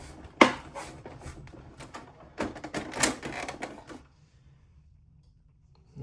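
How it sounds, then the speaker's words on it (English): The left side panel of an HP LaserJet MFP 179fnw printer pressed and snapped into place, a sharp plastic click followed by a cluster of rattling clicks and knocks, close, then quiet. "Now I'll snap the left panel."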